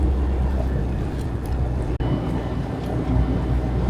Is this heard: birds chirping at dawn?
no